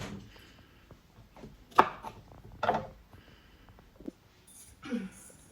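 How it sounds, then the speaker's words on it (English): A few separate knife chops through banana and plantain on a board, soft thuds spaced irregularly with quiet pauses between them. "I will start by chopping the banana and plantain ready for the blender"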